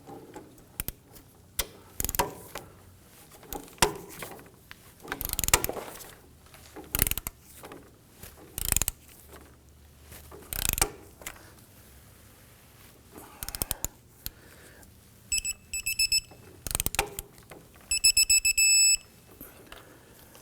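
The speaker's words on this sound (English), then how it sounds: "Let's torque down our strut to knuckle bolt to 111 foot-pounds" A torque wrench ratchets in repeated bursts while tightening the strut-to-knuckle bolt on a 2008–2011 Ford Focus front suspension. Clicks and metallic clatter come close by, with a sharp click-out near the end.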